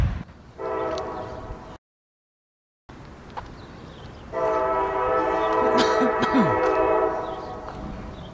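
A freight train sounds its horn in two long steady blasts as it rolls past, with a brief cut between them, the second blast louder and nearer over the rumble of passing cars.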